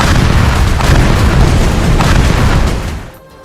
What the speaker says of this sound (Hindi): इजराइल की फौज हमास के अड्डों पर टैंक के गोले दागती नजर आई